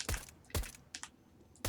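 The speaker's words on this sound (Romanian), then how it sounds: "Mamă, cât de tare ți se aude tastatura." Mechanical computer keyboard keys clacking in about four loud, sharp bursts at irregular intervals, close and alone with no talking, during a CS:GO competitive match.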